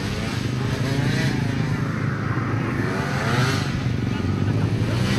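A Honda NSR250R motorcycle engine runs steadily nearby at a race event with a low rumbling drone, and crowd chatter and noise carry underneath throughout.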